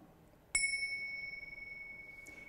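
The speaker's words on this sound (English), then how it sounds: "the teacher will just ring this gong" A small meditation gong struck once in a classroom setting, a sharp metallic strike followed by a bright sustained ringing tone that slowly fades over two seconds, alone without talk.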